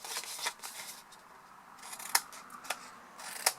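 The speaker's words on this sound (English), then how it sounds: "cut the little wedges out of the corner" Scissors snip wedges out of the corners of a folded card box lid, sharp crisp cuts at irregular intervals with soft paper rustling between them, close and fairly quiet.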